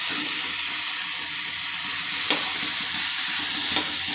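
Potatoes dropped into the middle of a pan with tomatoes softening at the sides, frying over high heat with a steady bright sizzle and a couple of faint clinks from stirring; no voices.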